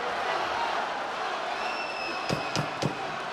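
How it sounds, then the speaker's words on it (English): Boxing arena crowd noise from a heavyweight bout, a steady broad roar of cheering with a few sharp slaps or punch-like hits near the end. "Crowd into it."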